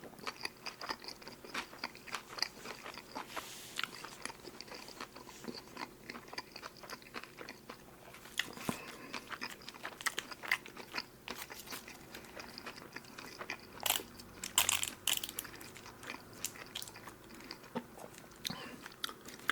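Close, quiet crunching bites and chewing of a Joe Burger double cheeseburger with pickles, soft repeated mastication broken by several sharper crunchy bites.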